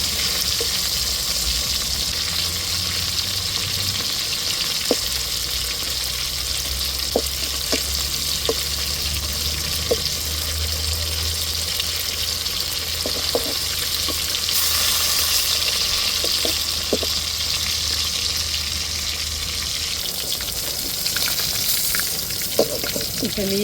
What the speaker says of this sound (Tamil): இப்போ மீனை பொரிச்சாச்சு.